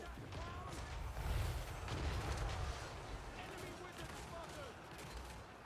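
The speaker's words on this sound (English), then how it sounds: "You guys can keep firing there." Massed gunfire from state troops in the Total War Warhammer 3 strategy game, a steady rumbling fusillade of overlapping shots and distant booms that swells in the middle, with game voices faintly underneath.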